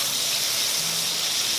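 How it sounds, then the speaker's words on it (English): Onions sautéing in a pan after burgers have cooked: a steady, even sizzle and hiss, close and continuous throughout. "Now we're gonna saute these onions."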